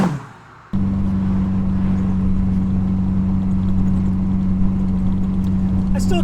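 A 1972 Datsun 580Z Spyder engine starts up abruptly and settles into a steady, loud, low droning hum heard from close by.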